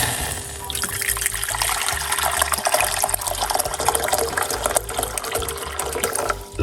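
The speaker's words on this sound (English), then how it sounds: "we got a medium-sized pot, and we're going to put some hot water" Hot water pours steadily into a medium-sized pot, a continuous splashing gush lasting several seconds with a slight change near the end as the pour stops.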